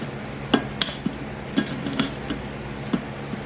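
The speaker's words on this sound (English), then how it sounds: "Now it's all shredded, we put it back into the pot and stir it around." Shredded meat gets stirred around in a pot, with soft scraping and occasional sharp spoon knocks against the pot's side, fairly quiet and irregular, with no voices.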